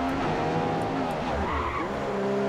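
An F1 race car in the F1 2015 video game is thrown hard into a corner during a Singapore practice session, with a loud, sustained engine roar and tires squealing through the bend.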